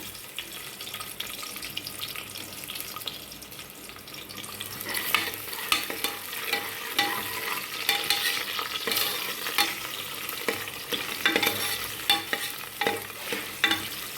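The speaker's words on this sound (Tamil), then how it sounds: "ஆனியன் நல் நல்லா வதங்கட்டும் லைட்டாக உப்பு சேர்த்துக்கிறேன்" Sliced onions frying in hot oil with cloves, cinnamon, cardamom and green chillies for a Thoothukudi-style mutton lung gravy, sizzling steadily while being stirred, with scraping clicks of the spoon growing louder partway through.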